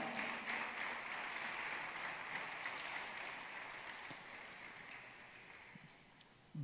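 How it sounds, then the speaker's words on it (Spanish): A church congregation applauds during a Spanish-language sermon, a steady wash of clapping that fills the whole stretch, fairly distant and even, then tapering slightly toward the end. "Fuerte el aplauso al Señor."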